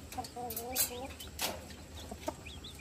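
A mother hen clucks to call her chicks to feed among a small flock of chicks, giving a run of soft, rapid, rhythmic clucks, fairly faint and close.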